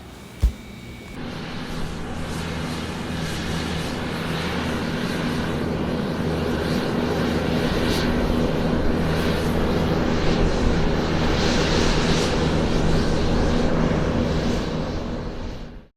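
Inside a passenger airplane as it comes in to land, a loud steady engine roar and cabin rumble fills the whole stretch, opening with a brief thump and cutting off abruptly at the end.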